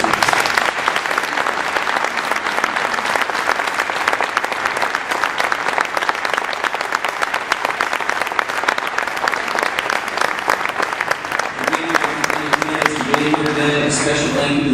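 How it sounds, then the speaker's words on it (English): A forum audience gives long, dense applause to candidates and speakers at the close of the event, with steady clapping from a full room and voices emerging as the clapping thins near the end. "So a round of applause for the candidates and speakers."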